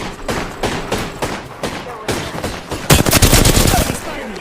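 Loud gunfire in a military shooter video game, with spaced single shots and short bursts early on, then a dense rapid automatic volley toward the end, with voice chatter mixed in.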